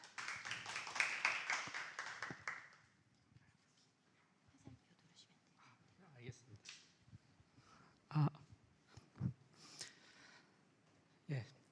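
A burst of applause fills the first few seconds and then fades, followed by quiet, intermittent talking and a few scattered taps.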